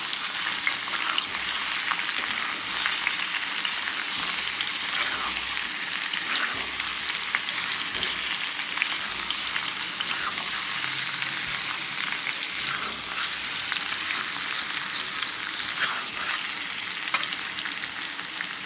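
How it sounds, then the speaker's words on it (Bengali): Steady, dense sizzling of boiled potatoes frying in a pan, continuous and fairly loud throughout with no talking. "লাল করে ভেজে নেব"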